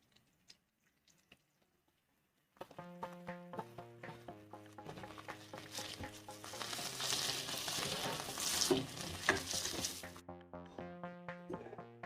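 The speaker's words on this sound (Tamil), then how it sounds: "ஆனியன் நல்லா எண்ணெயில் வதக்கிக்கலாம்." Chopped onions sizzle and fry steadily in hot oil after garlic, for an egg gravy, with stirring scrapes and a rich crackle over a music-like tonal background after a quiet start.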